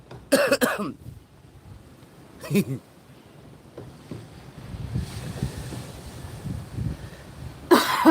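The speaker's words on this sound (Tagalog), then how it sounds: "Hayop na ubo to." Three sharp coughs, close to the microphone, come a few seconds apart over a background of wind rumble and murmuring.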